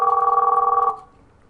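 A phone rings after an extension is dialed on a Cisco Unified CM Express system: a steady, close electronic ring tone with a fast warbling pulse, lasting about a second, then cutting to near silence.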